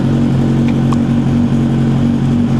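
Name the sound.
motorcycle engine revving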